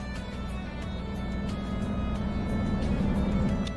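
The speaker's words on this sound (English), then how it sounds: "This is a very quiet truck." A Mack truck drives along in American Truck Simulator, its engine a low, steady, quiet drone with a faint rise toward the end and no talking.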